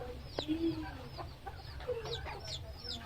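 Golden Sebright chickens, a tiny bantam breed, cluck softly and intermittently at close range, with a few short higher calls scattered among the low murmuring clucks.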